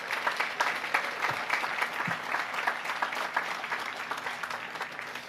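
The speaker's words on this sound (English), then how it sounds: "One more round of applause" Sustained applause from a high school commencement audience outdoors on a church lawn, even and continuous clapping that tapers slightly at the end.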